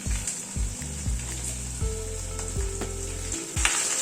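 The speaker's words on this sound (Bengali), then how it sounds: "এবার ভেন্ডিটা দিয়ে দিচ্ছি" Okra dropped into hot oil tempered with nigella seeds and crushed garlic sizzles loudly and steadily up close, with a few clunks and scrapes of stirring and no voices.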